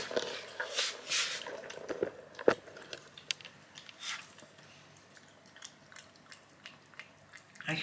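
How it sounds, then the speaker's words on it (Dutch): A pet animal eats its food noisily, with wet smacking, chewing and squishy biting sounds that come close and irregularly, in small bursts and sharp clicks, with no talk over them. "Hij smakt erover."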